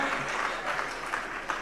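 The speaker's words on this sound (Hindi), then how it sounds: "यहाँ पर जरा तालियां तो जोरदारी से बजाइएगा मिलकर" Brief burst of audience clapping at a Jain religious discourse gathering, a dense wash of applause throughout with some voices mixed in.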